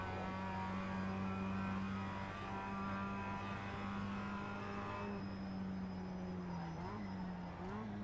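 A Mazda MX-5 race car engine drones steadily through a road race, holding a loud, close, sustained note that shifts in pitch near the end as the throttle changes.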